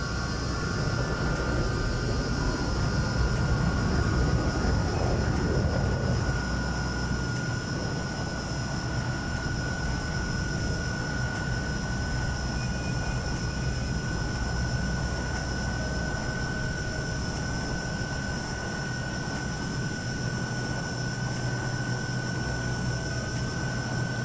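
A Hawker Hunter T7 jet flying in Microsoft Flight Simulator 2020, a steady loud engine roar with a whining tone that holds unbroken throughout.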